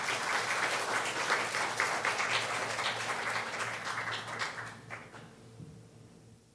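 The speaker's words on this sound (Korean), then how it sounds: "지금 나오실 때 큰 박수로 환영하도록 하겠습니다." A church congregation claps warmly to welcome a missionary to the front, a full room of steady applause that gradually thins and fades out into near silence.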